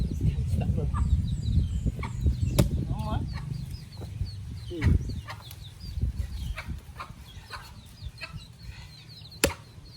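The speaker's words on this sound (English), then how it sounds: "Chickens." Chickens cluck and chirp in scattered bursts over steady outdoor background noise, with occasional sharp clicks and low rumbling nearby.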